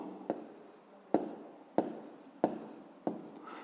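Chalk or pen writing out a fifth-grade math exercise, five sharp taps each followed by a short scratchy stroke, spaced about two-thirds of a second apart, close and quiet with no voices.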